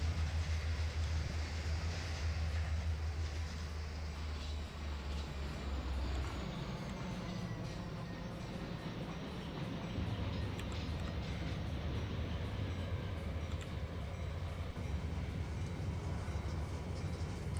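A freight train brakes hard in the Trainz A New Era game, a steady low rumble and rolling noise that shifts partway through as the brakes bite, fairly quiet with no talk.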